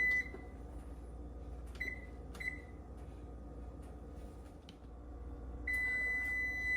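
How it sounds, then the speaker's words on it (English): A kitchen oven timer gives short, thin electronic beeps over a steady low hum while an Italian keto frittata bakes. Three beeps come spaced about a second apart, then a longer tone sounds near the end. "that's our timer telling us it's been in another minute"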